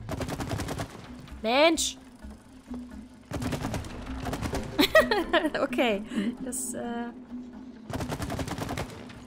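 Bursts of video-game gunfire in It Takes Two, rapid repeated shots in several volleys alongside sweeping game effects, with a player talking in between.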